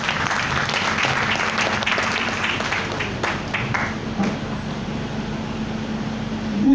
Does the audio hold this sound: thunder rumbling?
no